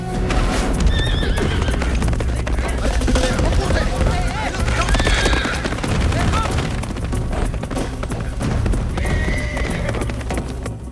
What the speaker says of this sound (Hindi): ये घोड़े पे किधर भागता चला जा रहा है?